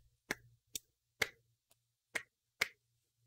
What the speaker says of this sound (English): Now I'm literally clapping right in the mic.